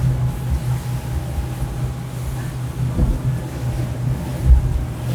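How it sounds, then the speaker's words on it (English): An Axopar 29 CCX with a Mercury outboard turns out on open water; a steady low engine drone sits under wind buffeting on the microphone, with no talking. "Let's see how this boat turns."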